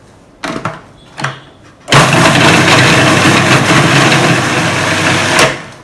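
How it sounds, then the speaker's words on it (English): A kitchen blender whirs steadily while blending a satay marinade with thick coconut milk and water for mutton skewers, after a couple of short clicks and bumps, running loud and close for several seconds before cutting off. "So now we'll blend them together."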